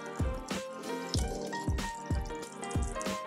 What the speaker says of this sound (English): Now I'm gonna pour in the beans.